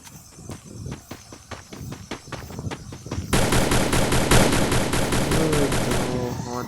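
Rapid automatic gunfire from a CS shooter game on a phone, at first in separate sharp bursts and then a dense, loud, continuous volley that fills the second half, with no one talking over it.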